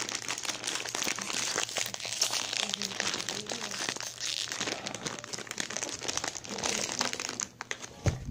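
Bon Pari candy wrappers being opened, crisp crinkling and crackling plastic close up, continuous for several seconds with brief voices underneath.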